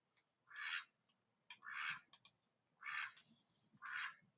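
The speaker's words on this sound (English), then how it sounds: "Yes, that's our duck." A duck quacks in four separate harsh bursts, each about a third of a second long and evenly spaced, heard alone and at moderate distance against quiet background.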